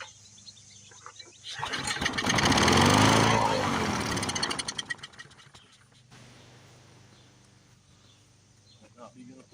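A Briggs 6.0hp lawn mower engine that had sat stuck is cranked over by hand with a primed start, giving a loud burst of rough mechanical chugging for a couple of seconds before fading into quieter clatter.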